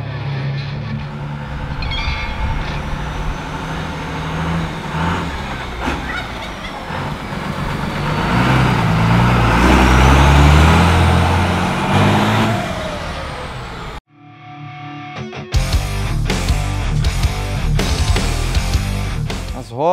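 A 1959 Ford F100 with a swapped-in Cummins diesel engine runs loudly, a heavy low rumble that swells to a peak, cuts out briefly, then returns with strong clattering pulses.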